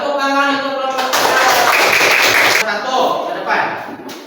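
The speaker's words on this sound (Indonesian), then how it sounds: "Tepuk tangan untuk kelompok" Schoolchildren in a classroom clap for a group of classmates, a burst of dense hand clapping that swells for a couple of seconds and then trails off, with a teacher's voice before it.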